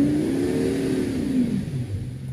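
A Ford F350 pickup's engine revs steadily while the truck rocks back and forth in reverse, the sustained mid-pitched drone swelling and then easing off toward the end.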